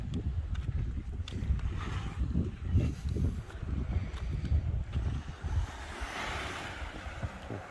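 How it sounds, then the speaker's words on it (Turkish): Sea waves wash and rumble continuously at Delikli Koy cove in Çeşme, Turkey, mixed with gusty wind buffeting the microphone, steady and fairly close, with no talking. "Buradan dalgaları duyabiliyoruz"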